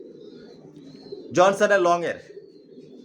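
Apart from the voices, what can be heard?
racing pigeon chicks cooing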